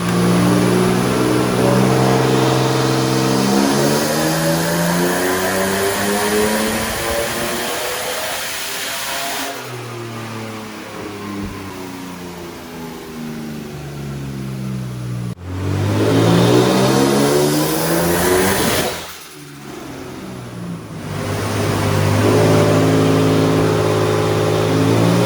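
A BMW E36 engine revs hard on a dyno, rising in pitch through long loud pulls, dropping briefly around the middle and near the end before climbing again, with no talking.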